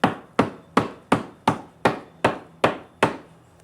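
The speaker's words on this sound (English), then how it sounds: "The saddle flaps are pounded to facilitate shaping the roast" A kitchen hammer pounds the saddle flaps of a roast, nine evenly spaced heavy thuds at a steady beat, close and clear with no voices.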